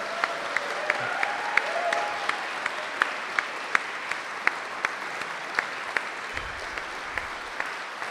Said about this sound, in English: Please give Harriet another round of applause